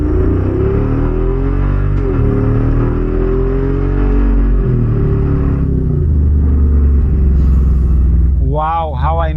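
Jeep Wrangler Rubicon 392 V8 driving off-road, a loud steady low engine rumble throughout with shifting revs, and a brief voice near the end.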